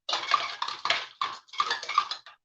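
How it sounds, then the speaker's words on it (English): Coconut flour pizza crust mixture is stirred in a bowl up close, with quick rhythmic scraping strokes in short bursts separated by brief pauses. "Put that much in it, and then we just stir it up."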